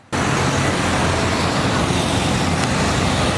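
Road traffic on a highway in Benin, a loud, steady wash of engine and tyre noise from passing vehicles with no pauses and no voices.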